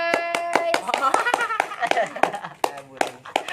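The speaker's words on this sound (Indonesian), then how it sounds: "Tepuk tangan guys" Several people clap hands in a quick, uneven rhythm, close and sharp, while voices laugh and chatter over the claps.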